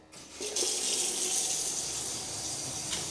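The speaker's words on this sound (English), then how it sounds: "Let's now run a hot tap." A hot water tap is turned on and runs steadily, a loud, close, continuous rush of water into a sink with no talking.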